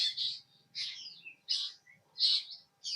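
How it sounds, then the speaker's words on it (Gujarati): Birds chirp in short bright bursts, four or five calls with brief pauses between, fairly close and clear against a quiet background, at a hillside temple. "પક્ષીઓ કલરવ કરે છે"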